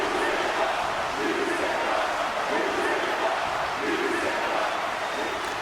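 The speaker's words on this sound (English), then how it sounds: "Listen to the crowd here." A large wrestling arena crowd roars and cheers at a Hell in a Cell match in one steady wash of noise with swelling chants, loud and continuous throughout.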